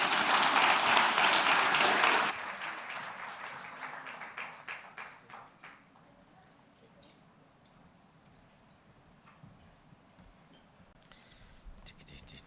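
Audience at an urban forests forum applauding the Johannesburg Executive Mayor, a loud burst of clapping for about two seconds that thins into scattered, fading claps and quiet room noise.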